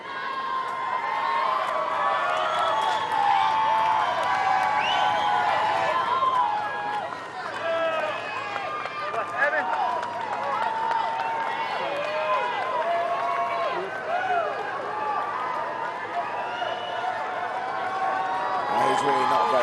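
A large crowd gathered along Pennsylvania Avenue during a presidential inaugural parade with protests, a steady, dense roar of shouting, cheering and scattered clapping that continues without a break, fairly near and loud throughout.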